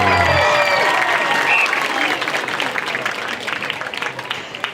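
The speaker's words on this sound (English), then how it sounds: "Let's have a big round of applause for your Pleasant Grove Showstoppers." A football stadium crowd applauds and cheers for the Pleasant Grove Showstoppers at a Pleasant Grove vs Van game, a loud wash of clapping that slowly thins out, with voices mixed in.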